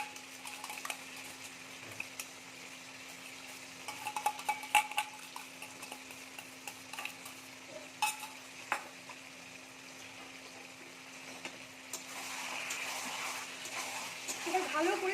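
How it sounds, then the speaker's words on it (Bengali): Chicken stirred and fried in a pan, Bengali style, with soured yogurt added; a spoon scrapes and taps the pan in scattered clicks over a low sizzle that grows louder toward the end. "এটা ভালো করে কষানো কাজ"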